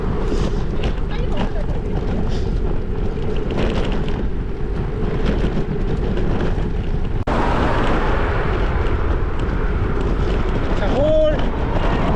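Strong wind blowing on a bike path, a loud constant roar that buffets the microphone for the whole stretch.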